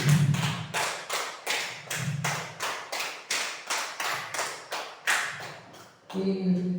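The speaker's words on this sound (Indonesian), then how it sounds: "tepuk 5 3 kali." Students in a classroom clap a five-beat pattern three times in unison, with crisp, regular group claps in repeating clusters, followed at the end by a brief voice.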